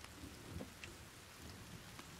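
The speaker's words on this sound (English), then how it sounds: "Oh my god, it's raining again?" Steady rain falls in The Forest survival video game on hard mode, a continuous soft hiss of drops on surfaces with a faint low rumble beneath, fairly quiet and even throughout with no speech.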